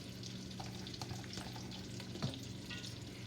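Two whole thinly sliced yellow sweet onions frying in melted butter for a garlic butter sauce, a steady low sizzle with faint stirring clicks and no talking.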